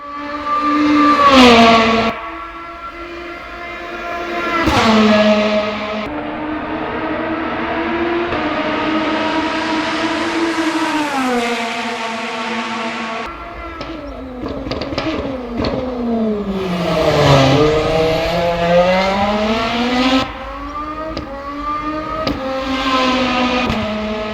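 Genesis GMR-001 hypercar engines in the racing game Le Mans Ultimate roar past in succession, pitch climbing and dropping sharply as each flies by, loud and continuous over several passes.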